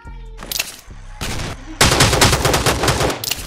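Heavy rifle shots from a Barrett sniper rifle in the mobile battle-royale game Rules of Survival, loud close bursts layered with rapid gunfire that runs in a dense stretch through the second half.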